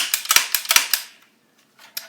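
A light plastic toy cap gun clicks sharply about six times in quick succession, then goes quiet before two more isolated clicks, each crisp and close.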